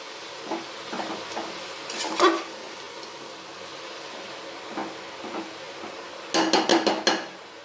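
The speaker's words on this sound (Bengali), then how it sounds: "বাঁধাকপিটা দিয়েও একটু নেড়ে নেবো।" Cabbage for vegetable chow mein is turned in a pan with a utensil, making scattered scraping clatters and a louder burst of rapid knocks near the end, close up.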